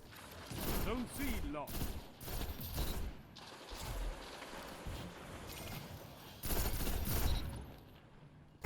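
Rapid bursts of fire from the Messenger pulse rifle in Destiny 2 crack out in clusters, loud and close, with sharp transients and some mechanical clatter between volleys.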